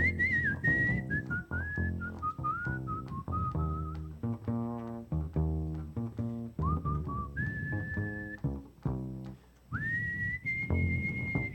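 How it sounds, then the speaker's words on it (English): A man whistles a melody solo, with bright sustained tones that slide between pitches and some held notes, over a low musical backing in a close, steady performance. "The one thing I did was whistle this song"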